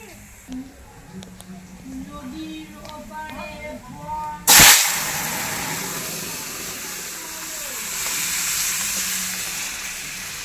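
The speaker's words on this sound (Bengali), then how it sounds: "এবার ডালটা ফোড়ন দিয়ে দেবো" Hot tempering spices are poured into dal in a small wok and burst into a loud, sudden sizzle. A long, steamy hiss follows and slowly settles. Before the pour, a voice speaks over the quiet stove.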